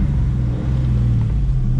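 The built Ford Mustang 5.0 engine runs as the car starts to drive. It gives a loud, steady, close low rumble with no talk.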